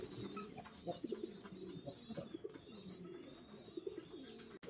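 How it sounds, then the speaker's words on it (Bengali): A pair of jet-black Mashal-dom fancy pigeons with stone eyes coo softly in low, rhythmic bursts close by, faint and unaccompanied by talk. "একজোড়া মশালদম, একবারে কোয়ালিটিফুল, দুটো পাথর চোখের কবুতর, জেড ব্ল্যাক"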